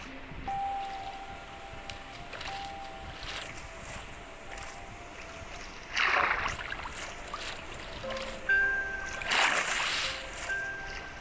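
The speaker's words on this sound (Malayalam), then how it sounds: "ഞാൻ നീന്തിയാണ് പോകുന്നത്" Swimming through water in Minecraft, a soft, continuous watery wash with two louder splashing surges partway through and a few faint tones, no talking.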